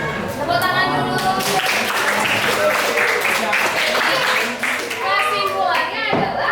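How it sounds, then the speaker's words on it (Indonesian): A classroom of students clapping together in a lesson, a burst of dense, fairly loud applause with children's voices and talk mixed in over the hands. "Tepuk tangan dulu."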